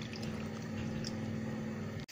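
Water bubbling at a steady boil in a cooking pot with frozen mussels and a teaspoon of salt, a continuous close churning wash that cuts off abruptly at the end.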